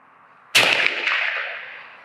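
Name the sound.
rifle gunshot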